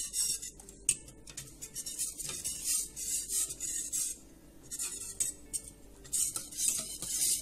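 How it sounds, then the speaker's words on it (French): Galette des rois filling stirred in a bowl until it thickens to a cream, heard as close, rasping scrapes and rubbing strokes in an irregular rhythm with short pauses, with no speech. "Donc je vais mélanger jusqu'à ce que ça devienne comme de la crème, que ça épaississe."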